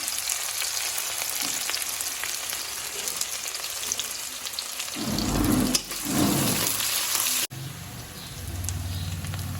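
Onions fry in a pan with a steady close sizzle and crackle, a louder burst of stirring midway and a brief cut near the end, with no talk.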